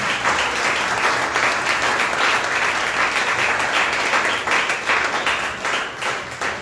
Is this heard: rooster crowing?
no